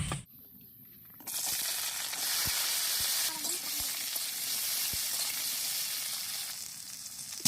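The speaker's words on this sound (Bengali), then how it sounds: "সর্ষের তেল দিচ্ছি কড়াইতে বন্ধুরা পটলটা ভেজে আমি তুলে নেব" Pointed gourd drops into mustard oil in a wok, and after a brief quiet moment a loud, steady sizzle starts and keeps going, with a few soft knocks.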